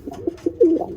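Birmingham roller pigeons coo softly at close range, a low burbling series of calls that swells into one louder, fuller coo near the end, with no voices.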